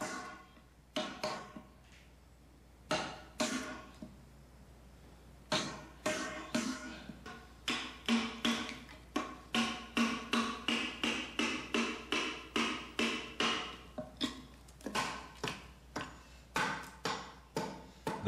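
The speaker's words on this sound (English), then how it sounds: "The groove for the purlin is carved with a hammer and chisel." Repeated sharp taps of a hammer striking a chisel, carving a purlin groove into a wooden rafter, close by, coming in irregular bursts that settle into a steady rhythm.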